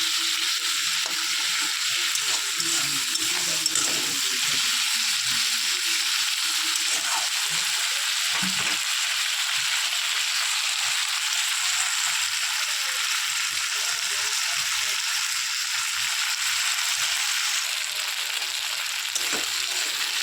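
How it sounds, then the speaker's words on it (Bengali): Green tomato fries steadily in a pan with turmeric and salt, a loud, continuous close-up sizzle with occasional soft stirring scrapes throughout. "টমেটোটা আমি বেশ কিছুক্ষণ ধরে ভালো করে ভেজে নিচ্ছি"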